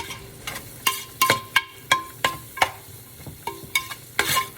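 Minestrone ingredients with garlic and onion powder being stirred and sautéed in a pan, a series of distinct scraping stirs and clinks over a faint, steady sizzle, close and moderately loud.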